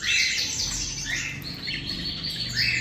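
Fischer's lovebirds chirp busily in a cage, a dense run of close, bright tweets continuing throughout with no speech.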